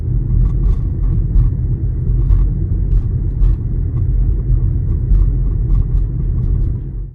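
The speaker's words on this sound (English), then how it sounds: "There's some rattle noise either somewhere in the steering wheel or steering column." A Ford Mustang Mach-E has a rattle somewhere in the steering wheel or steering column, heard from inside the car on a tight street as light, irregular ticking over a low road rumble.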